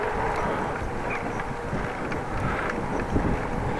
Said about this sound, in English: It's windy at the moment